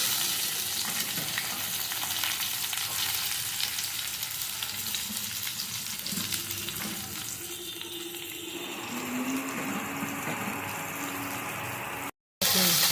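Raw green mango pieces go into a hot oil pan for a sweet pickle and are stirred, giving a steady broadband sizzle with a shift in texture partway through as the fruit hits the oil, with faint talk present.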